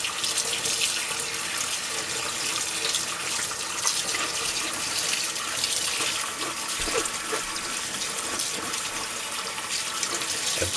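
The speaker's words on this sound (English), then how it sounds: "you just want to rinse it a little bit to remove any residual slime" Water from a tap runs steadily and loudly over washed true potato seed being rinsed, a continuous close hiss of splashing with no talking.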